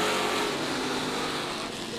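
Race car engine roaring loudly at Merrittville Speedway as it accelerates back to speed after a caution, a dense, sustained drone with other cars on track.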